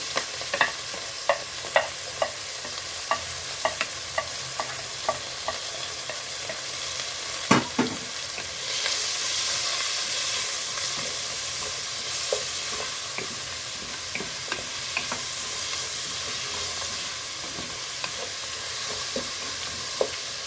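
Onion, garlic, potato and grass pea lentils fry together in a pan for khichuri, giving a steady low sizzle broken by scattered sharp clicks and scrapes of stirring, with a louder hiss surging in the middle.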